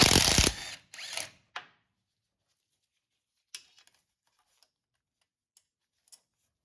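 A ratchet zips in quick bursts while removing nuts from a Toyota Tundra transfer case, followed by faint scattered ticks and clicks of metal parts in near silence.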